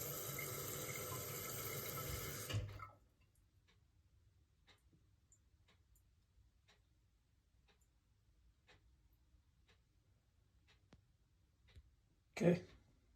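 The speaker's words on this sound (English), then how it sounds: "the easy fix is to let a little water out the flapper" Water drains out through a toilet tank flapper in a steady rushing gush for a few seconds. It then cuts off, leaving near silence with faint ticks and drips and one brief clunk near the end.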